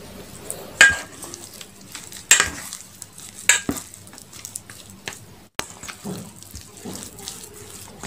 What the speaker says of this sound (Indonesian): kita aduk dulu biar gampang aduknya